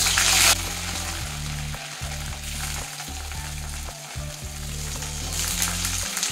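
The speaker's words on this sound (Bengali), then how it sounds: "এবারে কপিগুলো ভেজে নেব।" Cauliflower pieces fry in hot mustard oil in a wok, a loud, steady sizzle with occasional stirring clatters and brief bursts of louder spitting.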